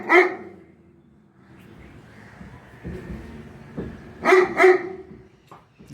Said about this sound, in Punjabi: ਇਹ ਕੁੱਤਾ ਕਿਹੜਾ